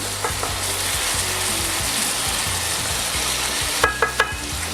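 Garlic and tomato fry in a pan for a Provençal chicken fricassee, giving a steady, close sizzle throughout, with a few sharp utensil taps near the end.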